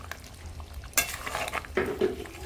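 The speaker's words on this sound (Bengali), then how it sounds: "এবার নাড়িয়ে নেব।" Chicken curry stirred in a pan, with a spoon scraping and clattering against the metal in a few distinct strokes over a soft sizzle.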